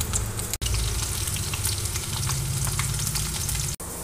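Chicken pakoda fries in a pan of hot oil with a loud, continuous bubbling sizzle heard up close, cut by two brief dropouts.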